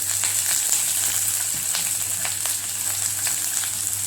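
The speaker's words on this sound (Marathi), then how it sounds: "आता ह्याच्यातच मी मोहरी टाकली। त्यानंतर कांदा, हिरवी मिरची" Mustard seeds, chopped onion and green chilli sizzle in hot oil in a pan, a loud continuous hiss with scattered sharp crackles and pops, a low steady hum beneath and no talking.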